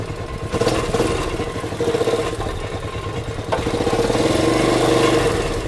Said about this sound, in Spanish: No tenemos ruido de válvulas, está acelerando bien.